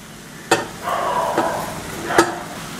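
Pasta being stirred into sizzling masala in a pan for Indian-style masala pasta, with a continuous frying hiss broken by three sharp scraping stirs and clinks, close and fairly loud.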